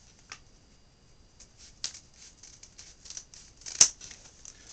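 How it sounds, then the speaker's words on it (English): Scissors snip through sheets of printed book paper, a few sparse crisp cuts and paper rustles up close, quiet overall with one sharper snip near the end. "The top, of course, which we'll cut off separately here with the scissors."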